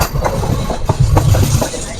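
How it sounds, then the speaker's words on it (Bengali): A MEMU passenger train pulls into Pinargoria railway station, its wheels rumbling steadily with faint rhythmic clatter over the rails, heard close and fairly loud with no voices. "ট্রেন পৌঁছলো পিনারগড়িয়া রেল স্টেশন বারোটা সাতচল্লিশে"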